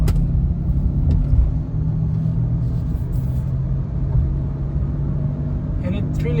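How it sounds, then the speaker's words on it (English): A Honda Pilot driven on the road with a worn front wheel bearing, a steady low rumbling drone from inside the cabin, loud and continuous, with a person talking over it. "This might be a wheel bearing problem."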